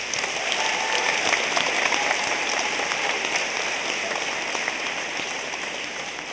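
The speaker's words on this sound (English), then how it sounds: "How about another round of applause for Ariel?" Another round of applause at an eighth grade moving-on ceremony at a middle school, a full, steady roar of many hands clapping that tapers slightly toward the end.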